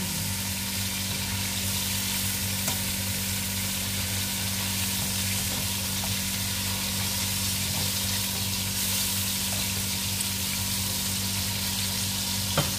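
Chicken pieces frying in a pan as they are flipped, a loud, constant close-up sizzle with a few faint clicks from turning the meat.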